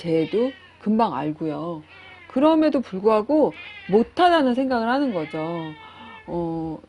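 A pet cat meows several times in high, drawn-out calls, closely overlapping someone talking steadily in Korean, the cries rising and falling between her phrases.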